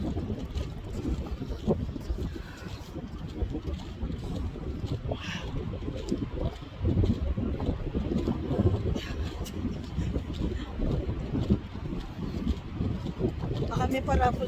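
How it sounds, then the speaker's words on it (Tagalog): Strong wind blowing at sea, with a constant low rumble and buffeting against the microphone, continuous and fairly loud under intermittent voices talking. "Kaya ganyan kalakas ang hangin"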